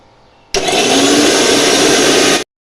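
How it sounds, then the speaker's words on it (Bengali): A kitchen mixer grinder blends raw turmeric into paste, kicking in abruptly with a loud, steady high-pitched whir that runs for about two seconds before cutting off, close to the listener with no speech. "এটাকে আমি এবার প্রেসার এতে দিলাম, মিক্সিতে এবার পেস্ট করব।"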